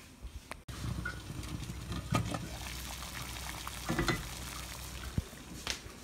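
Water bubbling and simmering in a pot while fish soup with diced onion and potato is made at home, a steady close rolling boil with a few clinks of utensils.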